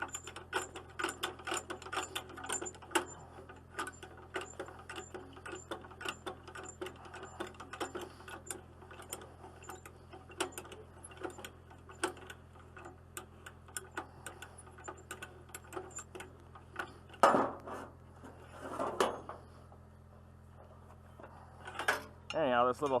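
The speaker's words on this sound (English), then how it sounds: "this little strap roller is kind of handy" A handheld strap roller winding up ratchet straps after straw hauling, giving repeated close mechanical clicks and rattles in an uneven rhythm, with brief louder bursts near the end.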